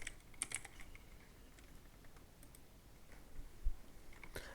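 Quick, light clicks of typing on a computer keyboard sound close and quiet in short bursts over a soft background hiss, with one louder thump near the end.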